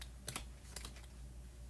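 A quick shuffle through a pack of patterned craft paper sheets, giving a few crisp papery flicks and rustles close by, with no talking.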